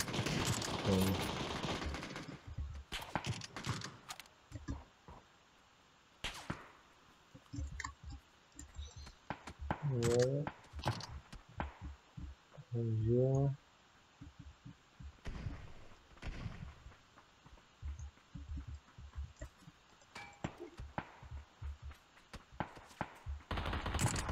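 Rapid bursts of gunfire and explosions in the battle royale game PUBG, sharp repeated shots and booms coming in irregular clusters throughout, mixed with voices talking and laughing over the fighting.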